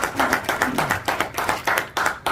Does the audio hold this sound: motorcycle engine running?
no